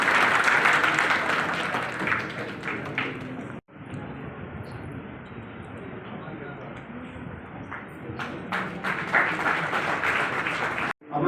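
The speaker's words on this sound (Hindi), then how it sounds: "कृपया तालियां बजती रहें" A gathered audience at a Hindi-language welcome ceremony claps loudly for a few seconds, then breaks off into softer crowd murmur before scattered clapping swells again toward the end.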